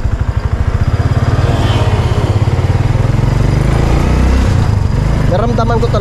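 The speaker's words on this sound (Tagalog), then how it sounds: "Kabisado ko na itong motor na to eh." A motorcycle engine runs close by with a steady, fast, buzzing putter that continues throughout, while people talk over it.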